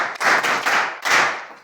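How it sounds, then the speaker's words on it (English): Secondary school students in a physics class clap for a classmate in three short, close bursts of hand claps. "Please, can you clap for him?"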